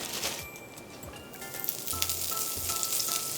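Bean sprout batter sizzles in a lightly oiled frying pan over medium heat, a close, steady crackling hiss with a few soft taps as portions are laid in, and no one speaks.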